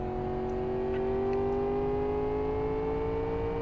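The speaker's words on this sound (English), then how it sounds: "It's got that kind of raspy V8 sound to it." Turbocharged V8 engine of a Ferrari F40 mod in the Live For Speed racing game, held at a steady high drone with rising pitch as it accelerates, loud and continuous with no talk.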